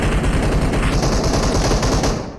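Rapid automatic gunfire in PUBG Mobile pours out in dense, continuous bursts, loud and close, with no talking and a slight fade at the end.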